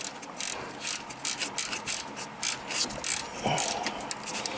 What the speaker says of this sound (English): So now all I have to do is reach down and push the alternator forward, and then take the belt out.